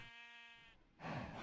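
A sheep in the video game Minecraft gives a single short, wavering bleat, followed by a burst of brighter noise.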